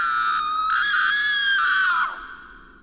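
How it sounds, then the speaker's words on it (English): One long, loud, high-pitched scream from the next room, held for about two seconds before trailing off and fading. "we were all woken up by a loud scream coming from the next room."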